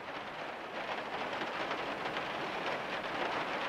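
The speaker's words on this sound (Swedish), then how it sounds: "Hör ni hur det regnar?" Steady rain drums on the roof above an attic, a dense, even hiss that stays loud and unbroken throughout, with no voices.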